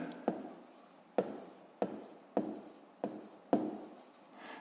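A pen writes in a notebook during a fifth-grade maths exercise: six short, close, scratchy strokes in an even rhythm, each followed by a faint trailing scrape.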